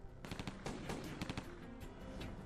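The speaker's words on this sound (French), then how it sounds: "des coups de feu résonnent." A rapid burst of gunshots rings out in quick succession, loud and close with echoing reverb, like a fusillade in a 1933 Brooklyn gangland killing.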